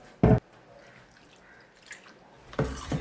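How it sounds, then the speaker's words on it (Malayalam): Two short splashing pours of water land on a ground paste of fennel and rock salt, one near the start and one near the end, with quiet between them. "ലേശം വെള്ളം എടുക്കട്ടെ."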